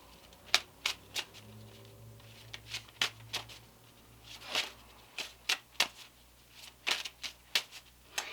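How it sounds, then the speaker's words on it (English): Medicine oracle cards are shuffled and drawn during a Virgo love reading, giving a series of sharp, close papery snaps and riffles in an irregular rhythm against a faint low hum, with no talking. "Let's pull one medicine card for Virgo."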